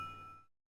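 A bell ding from a Thomas and Friends engine repair kids' game rings once and loud, its clear tone fading over about half a second before silence.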